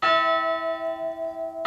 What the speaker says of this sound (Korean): 10시 30분 정각에 예배를 알리는 종소리가 울립니다.